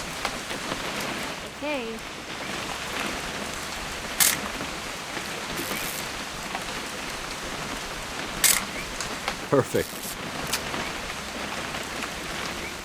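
Steady rain falls on surfaces in the game What Remains of Edith Finch, a continuous hiss with a few sharp camera-like clicks, and people briefly talk over it.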